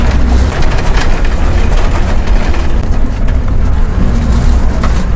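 An MSRTC ST bus drives along with a steady, loud engine roar and road rumble heard from inside, with faint high rattles recurring throughout.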